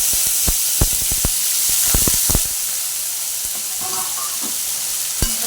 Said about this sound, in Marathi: पनीरला मी असं थोडंसं फ्राय करून घेते.